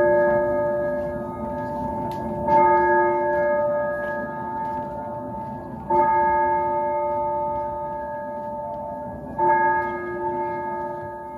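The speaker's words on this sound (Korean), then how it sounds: "종소리 들으니 미사가 끝났나 본데" Church bell tolls as a sound effect in a stage play, 'Killing Game', with three sustained, ringing strikes spaced a few seconds apart, each decaying into a long, resonant hum; no voices.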